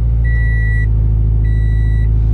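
Car engine idling steadily at a used-car auction in the United States, a loud, even low rumble close up, with two sustained electronic warning tones sounding over it.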